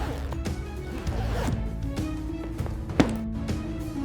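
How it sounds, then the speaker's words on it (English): Zippers and metal clasps on cow leather luxury goods are worked in a factory, giving repeated sharp zipping strokes and clicks in a steady rhythm over a low background hum, with one louder snap near the end. "Functional testing ensures that all zippers and clasps work flawlessly."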